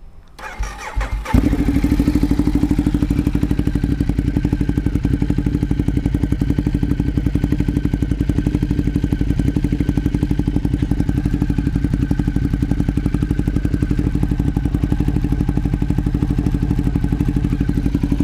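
A Ducati Diavel motorcycle engine starts with a brief crank and catch. It then idles loud and close in a steady, throbbing, unbroken rumble, with no revving.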